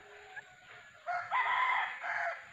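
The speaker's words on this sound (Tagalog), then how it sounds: "May mga manok na dito." A rooster crows from some distance over quiet background on a coconut farm, with a soft cluck just before it.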